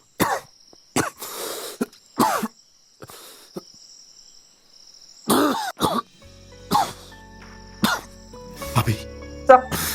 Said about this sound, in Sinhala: සිගරට් බොන මිනිස්සු ගාව අර අමුතුම කැස්සක්